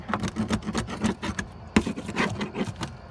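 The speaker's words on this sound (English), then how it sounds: "So I'm gonna take a chisel." A chisel scraping debris off a boat's cockpit floor during repair, a rapid series of short rough rasping strokes with dull knocks, close and steady with no talk.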